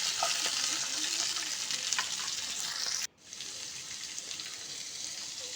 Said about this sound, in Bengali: এরপর আমি ডাঁটাগুলোকে এর সঙ্গে দিয়ে আরও 2-3 মিনিট ভেজে নেব